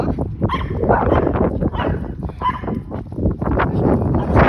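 A dog barks repeatedly in quick, loud bursts close by, with rustling and movement noise filling the gaps.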